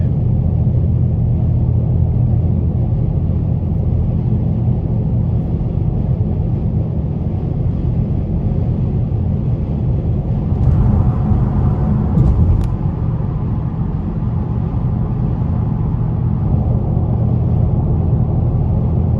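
Steady low engine rumble from a 2021 Dodge Challenger R/T Plus cruising at highway speed on the interstate in sport mode, a continuous droning under road noise with a slight swell partway through.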